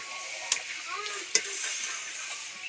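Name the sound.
food frying in oil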